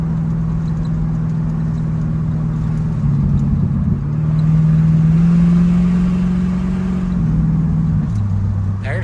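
A 1970 Pontiac LeMans engine drones steadily from inside the car while driving, its pitch rising and then dropping as the transmission shifts into third gear, with a further drop near the end.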